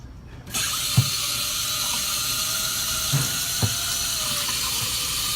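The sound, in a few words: water rinsing dirt out of a K&N air filter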